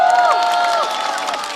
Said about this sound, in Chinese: 掌声有请 Seven